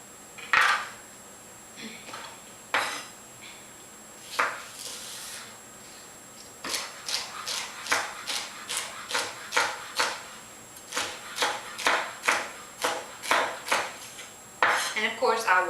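Knife chopping celery ribs on a cutting board at home, a run of sharp, evenly spaced taps that speeds into a steady rhythm, close and clear with a few scattered knocks and clatters before it.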